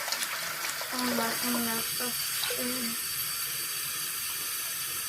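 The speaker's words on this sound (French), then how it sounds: "je vais mettre un petit peu d'eau froide, un petit peu d'eau chaude. Je vais faire un petit peu un bain d'eau tiède" Tap water runs steadily into a basin, mixing cold and hot for a lukewarm bath, a continuous close hiss throughout with a voice speaking over part of it.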